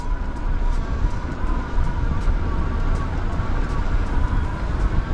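A Bandit Bikes Pacer e-bike climbing a hill on throttle alone gives a steady, close motor whine over continuous wind and tire rumble, with no talk.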